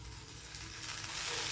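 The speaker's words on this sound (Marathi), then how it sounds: "तर ह्याच्यात जरा तेल घालून भाजून घेऊ" Okra sizzles in hot oil in a pan, a soft crackling hiss that grows gradually louder, with no talking.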